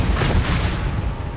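A Bombarda blasting spell explodes in Hogwarts Legacy as a short, loud, booming burst with a rumbling tail, heard alone.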